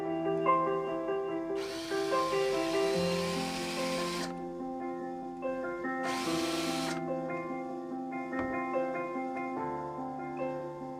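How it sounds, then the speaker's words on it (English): A countersink bit drills into a bent-lamination barstool to sink a screw head below the surface, giving two whirring bursts of a few seconds each over steady tonal background music. "this is a countersink bit that will run the head of the screw down below the"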